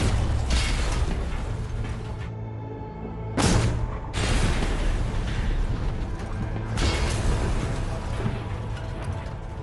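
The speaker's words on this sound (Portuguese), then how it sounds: "mais 3 cargas de profundidade descem sobre o USS Growler" Depth charges detonating around the US submarine USS Growler, heard as loud, rumbling low booms that fill the whole stretch, with sudden heavy blasts and creaking, grinding mechanical strain and no talk.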